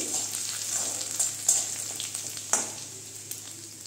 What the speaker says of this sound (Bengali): এর মধ্যে আমি দিয়ে দিচ্ছি এই যে আদা কেটে রেখেছি ছোটো ছোটো করে, সেটা দিয়ে দিয়েছি